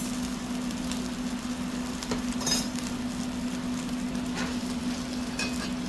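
Onions and chorizo fry in a pan, giving a steady, even crackling sizzle that runs unbroken throughout, with a faint clink of a utensil now and then.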